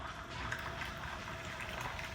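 Milk pours off steadily for an AeroPress latte, a soft continuous liquid wash running close by without pause.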